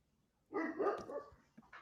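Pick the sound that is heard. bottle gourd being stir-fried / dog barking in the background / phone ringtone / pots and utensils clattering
dog barking in the background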